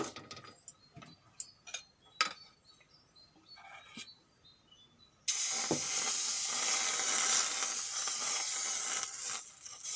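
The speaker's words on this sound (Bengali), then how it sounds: "এইভাবে আমি সব পিঠেগুলো ভাজা করে নেব" Pitha cakes fry in hot oil, giving a loud, close, steady hiss and crackle that starts abruptly midway, after a stretch of faint ticking and clinks.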